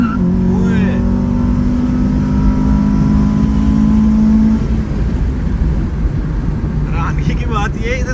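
A car fitted with a B16 Type R engine launches and accelerates hard, its loud, close engine roar building and then easing, with people's voices audible over it.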